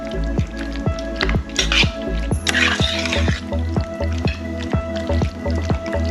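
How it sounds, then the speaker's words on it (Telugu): Ginger garlic paste is worked into mutton for marination, making wet, rhythmic squelching and slapping as the meat is mixed by hand at a steady, close-up pace. "టూ స్పూన్స్ అల్లం వెల్లుల్లి పేస్ట్ వేయాలి. వేసి బాగా మిక్స్ అయ్యేలాగా కలుపుతారు."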